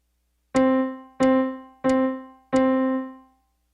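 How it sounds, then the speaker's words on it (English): Four separate piano notes struck at an even steady pulse, each ringing out clearly and decaying before the next, alone with no other sound. "This is what 4 quarter notes in a row sound like."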